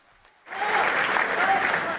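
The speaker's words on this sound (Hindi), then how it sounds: "जोरदार तालियों से उनका स्वागत किया जाए।" Loud applause breaks out suddenly after a quiet moment to welcome a speaker at a community panchayat gathering, sustained and dense with many hands clapping together.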